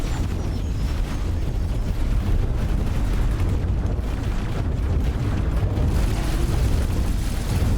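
Turret fire and explosions during a space battle in the X4: Foundations video game, a dense continuous roar of booming blasts and gunfire rumbling steadily throughout with no pauses.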